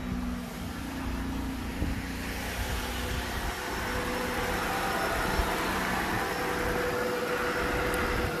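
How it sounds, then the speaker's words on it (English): A Jeep Gladiator engine idles from inside the cab with a steady, even rumble and broad constant noise that holds unchanged throughout, no voices. "if you can hear me over the engine noise"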